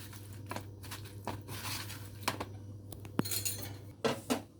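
Marinated meat being mixed with cornflour and flour in a bowl, with a spoon scraping and clinking against the bowl in scattered knocks over a steady low hum, no talk.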